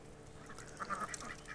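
A few nasal Indian Runner duck quacks, moderately close, arriving in a short cluster over a soft background hiss.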